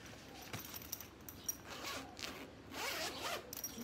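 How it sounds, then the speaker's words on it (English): A zipper on a handmade fabric pouch with three zippered compartments rasps open in several short, close pulls, with light handling rustles and soft clicks between strokes and no talking. "It's got three different zippers, so three different pouches."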